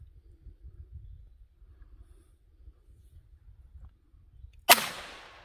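A black powder smooth-bore belt buckle pistol fires a single sharp, loud shot near the end, its report decaying quickly after a stretch of quiet low background rumble.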